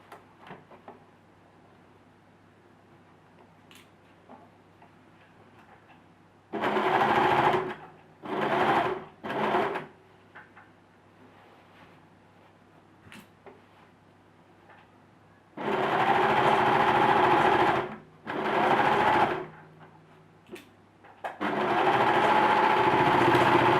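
A sewing machine stitches the sleeve of a dress, running in several loud bursts of steady, rapid whirring separated by short pauses, alone without talk.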